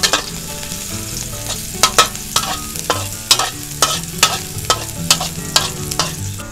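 Garlic frying in about a tablespoon of oil in a pan, a loud close sizzle broken by a regular series of sharp clacks from a utensil stirring against the pan.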